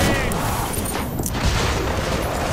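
HMTech 401 Medic Assault Rifle firing in Killing Floor 2, a dense unbroken burst of rapid shots and booming impacts that fills the whole stretch at close range.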